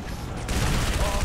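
Rapid carbine fire in the video game Halo 3: ODST, a dense burst of loud shots that starts partway through and keeps going over a steady game soundscape.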